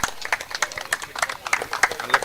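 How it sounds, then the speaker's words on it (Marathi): Applause for an honoree at a prize ceremony at a cricket league final, with dense, rapid clapping from a crowd that carries on steadily throughout. "जोरदार टाळ्या झाले पाहिजे संदीप तांडेलसाठी."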